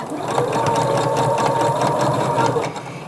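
A sewing machine runs steadily, stitching around a fabric napkin basket in one continuous close, loud whir for about three seconds before easing slightly at the end.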